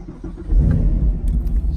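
A 2017 Chevrolet Camaro 2SS convertible pulling away on a test drive, a deep close engine rumble that swells as it accelerates, brief and loud with no talk.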